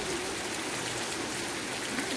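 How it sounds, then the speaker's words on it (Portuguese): Light rain falling steadily outdoors near a house and lawn, a continuous soft hiss of drops with no pauses or voices. "Nossa, mas que chuvinha mais boa."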